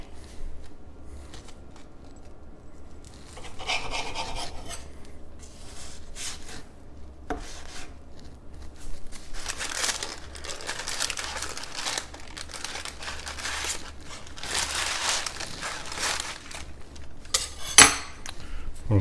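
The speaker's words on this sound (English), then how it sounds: "We'll cut a little section out of it." Knife and utensils scraping and clinking against a plate while slicing a portion from a French taco, a run of soft cuts and crinkles with a sharper clack near the end, no talking.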